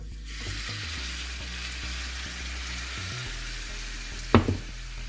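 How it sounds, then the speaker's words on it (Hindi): Marinated mutton pieces for Pakistani tawa bhuna gosht sizzle steadily on a hot tawa, a continuous close frying hiss over a low hum, with one sharp utensil clank near the end. "अच्छा देखिए तवा थोड़ा गरम हो चुका है तवा जो, इसमें हम ये मैरिनेट किया हुआ गोश्त डाल देंगे।"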